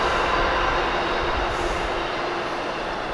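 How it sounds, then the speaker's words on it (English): A passenger train passes close and loud, a steady rumbling roar of wheels on rail with a faint high squeal, heard alone throughout. "Train!"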